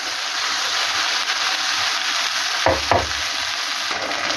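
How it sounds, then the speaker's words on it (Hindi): Okra (bhindi) frying in a pan, a steady close hiss of sizzling oil with a couple of soft knocks near the middle; no voices. "यहाँ पर भिंडी फ्राई हो रही है।"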